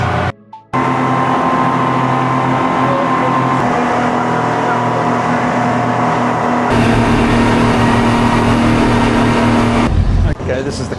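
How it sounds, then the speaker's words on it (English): A boat engine fires up on leaving port on the way to Koh Lanta, Thailand, a loud steady drone that holds and shifts level partway through and runs throughout with a brief break near the start. "We're now out of port and he's firing up the engine"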